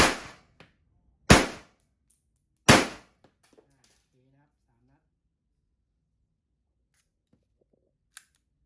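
A Colt M1911-A1 blank pistol with real wood grips fires three sharp, loud, close shots about a second apart, each ringing briefly, followed by quiet and a faint click; someone speaks softly between them.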